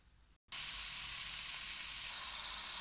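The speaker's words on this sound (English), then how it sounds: "Bring it to cook and slightly fry the beef in medium heat." Beef chunks sizzle steadily in hot oil over medium heat, a dense hiss starting after a brief silent gap and holding loud and close with no voices.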